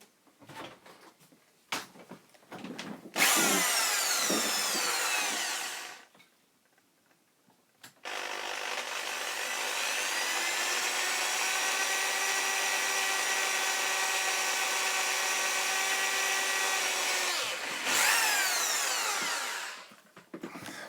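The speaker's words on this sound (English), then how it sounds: "Yeah, let's try to drill this." A power drill bores into the plastic case of an Amstrad CPC 464, first in short bursts, then in one long steady whining run lasting about ten seconds, followed by a brief final burst.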